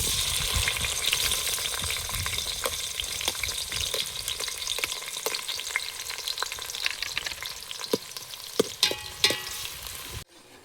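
Sliced onions dropped into hot oil with fried chilies for fish pulusu, sizzling and crackling steadily up close, with sharper pops and stirring clicks toward the end before it cuts off.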